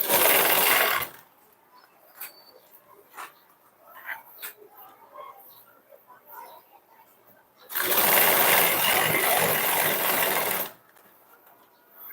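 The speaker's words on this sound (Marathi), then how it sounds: "याला पण सेम त्याच पद्धतीने आपल्याला शिलाई मारून घ्यायची आहे" An electric sewing machine stitching a blouse runs in two loud, steady bursts, one brief at the start and a longer one later, with quiet handling sounds and a faint dog whimper in between.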